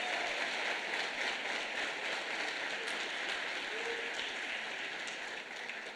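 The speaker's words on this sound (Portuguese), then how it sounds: "dá uma grande salva de palmas para Jesus" Congregation at a church service applauding for Jesus, a steady, moderately quiet roar of many hands clapping with faint voices beneath, holding level throughout.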